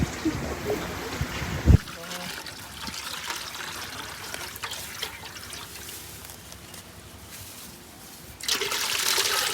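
Natural spring water trickles and splashes steadily at a campsite in Laguna, with a brief knock early on and a louder rush of flowing water near the end.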